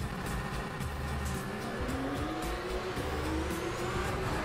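Porsche Supercup race cars rumbling and droning together on a formation lap at the Austrian Grand Prix circuit in the rFactor 2 racing game, a steady loud engine hum with a rising whine throughout.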